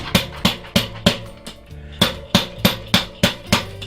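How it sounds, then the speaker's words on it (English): A glass mushroom spawn jar is whacked against a tire about a dozen times in a regular rhythm, each blow a sharp, close thump. "But about 10 or 12 whacks on the tire,"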